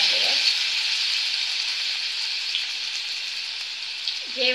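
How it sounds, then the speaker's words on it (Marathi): Garlic and cumin sizzle steadily in hot oil, a continuous bright crackle throughout, with a faint voice at the start and end. "आपण ठेचलेल्या लसणाची आणि जिऱ्याची जेव्हा फोडणी देतो"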